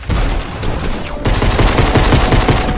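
Rapid gunfire from a Fortnite match, a dense, loud burst of shots that swells sharply about a second in and keeps rattling continuously to the end, with no talk over it.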